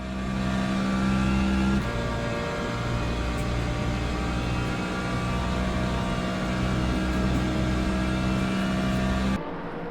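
Race cars on the Imola circuit during a sprint series race roar past at full throttle, a loud continuous engine drone with steady harmonic whine and a shift in pitch partway through, then cutting off abruptly near the end.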